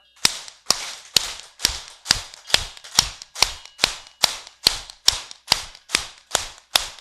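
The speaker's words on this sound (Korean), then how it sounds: "힘껏 박수를 치는 거예요. 박자를 맞춰가지고요" An audience at a Buddhist monk's talk claps forcefully in unison, about sixteen sharp, evenly spaced claps at a steady beat, loud and crisp with no talking.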